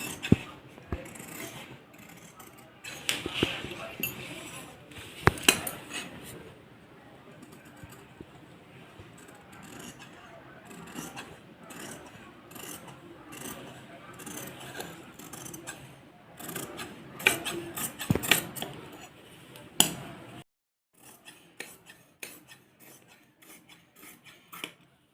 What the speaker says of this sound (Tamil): பேக் நெக் வந்து கட் பண்ணிக்கலாம்.